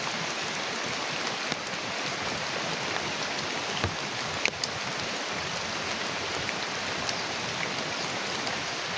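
Steady rain pours down in a forest, a dense even hiss of drops on leaves and surfaces with no voices, continuous and fairly close throughout.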